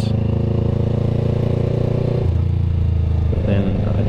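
Close, loud engine drone from a Yamaha YZF R3 motorcycle under way, holding steady revs, dipping briefly and climbing again with wind rush.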